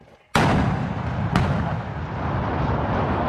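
An M777 155mm towed howitzer fires during a Marine live-fire exercise: one sharp, loud blast followed by a long rumbling roll, with a second crack about a second later and sustained echoing boom trailing off.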